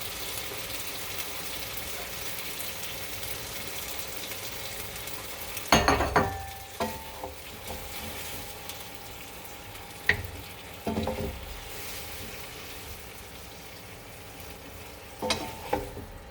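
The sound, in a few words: shoyu shrimp and veggies stir frying and sizzling in a pan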